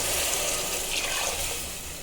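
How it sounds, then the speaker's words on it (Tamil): Ground coconut milk pours into a cooking pot over sautéed ingredients while making ghee rice, giving a continuous, loud splashing gush that tapers slightly toward the end, with no talk. "இப்போ நம்ம அரைச்சி புளிஞ்சு எடுத்து வச்சுருக்கிற தேங்காய் பால் அதில் சேர்த்துக்க போகிறோம்."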